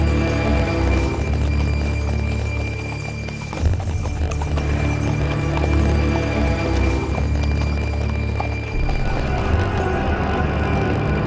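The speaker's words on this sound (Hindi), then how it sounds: "दौड़ते दौड़ते तो घोड़े भी थक गया।" A horse gallops through a forest, its hooves clip-clopping in a steady, loud, close rhythm that runs unbroken from start to finish with no voices over it.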